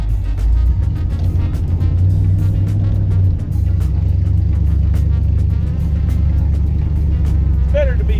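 A 1950 Ford car engine running rough, a loud, steady low rumble that keeps going with an uneven, lumpy idle and a brief dip midway. A voice talks over it briefly near the end.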